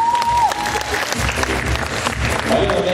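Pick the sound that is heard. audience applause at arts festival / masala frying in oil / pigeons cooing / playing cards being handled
audience applause at arts festival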